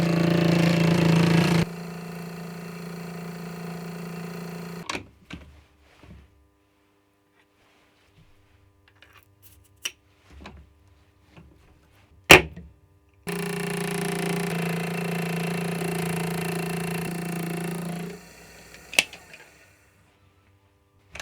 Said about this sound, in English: Now I have to mill all the blanks to the same height.